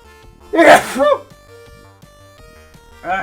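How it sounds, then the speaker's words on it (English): A single loud sneeze bursts out close up, followed by quieter breathy sounds and some small knocks, then another brief vocal burst at the end. "I might sneeze."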